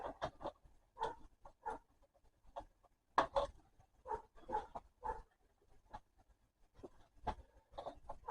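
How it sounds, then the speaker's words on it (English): Cutters snip the extra component legs off a freshly soldered board during a battery charger repair, giving a scattered series of sharp, close clicks with quiet gaps between them. "Just cut these extra legs off."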